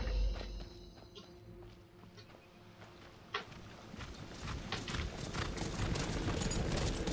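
Shadowmere, the black horse in Skyrim, walks with soft, regular hoof clops that grow denser and busier toward the end, under a low ambient game background.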